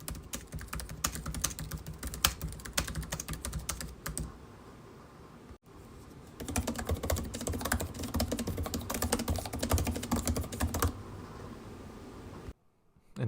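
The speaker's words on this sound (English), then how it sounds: "I've recorded the following 2 clips so you can get a better idea of what both keyboards sound like." Rapid continuous typing on laptop keyboards, including a MacBook Air, in two separate close-up stretches of dense clicking keystrokes with a brief pause between them and no speech.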